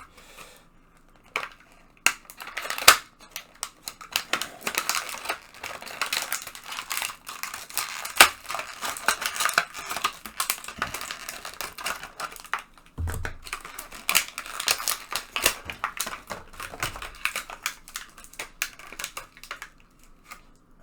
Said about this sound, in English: got the world's biggest pair of scissors to do this with